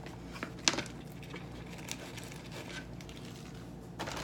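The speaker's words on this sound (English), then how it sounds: "So you put them in a plastic bag after washing and wrap them in a damp paper towel." A plastic bag crinkles as washed bok choy is wrapped in it, with a few soft, brief rustles near the start and again near the end over quiet kitchen background.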